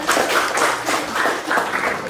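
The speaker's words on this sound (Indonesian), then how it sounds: "Tepuk tangan buat kita" Classroom group applauding after a counting exercise, a short burst of brisk, fairly close clapping from a small gathering.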